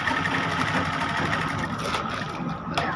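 A sewing machine stitching the buttonhole placket of a toddler's kameez, a steady close mechanical whir and rapid needle chatter running without pause, with no speech.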